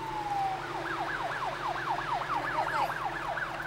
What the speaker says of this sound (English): So why did the ambulance get here, Janet?